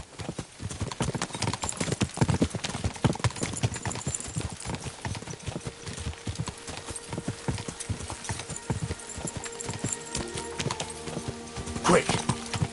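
Galloping horse hooves clatter in rapid, dense clip-clop across a race in the medieval game Kingdom Come Deliverance 2, with a brief whinny and game voices speaking over the pounding rhythm.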